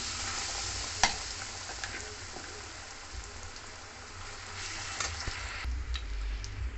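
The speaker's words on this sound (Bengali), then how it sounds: "সবগুলো দেওয়ার পরে এটা এবার নেড়ে নেড়ে ভালো করে কষিয়ে নেব।" Ground lentil paste fries in hot oil in a pan, giving a steady soft sizzle with scraping and clinking from a spatula as it is stirred, one sharp knock near the start.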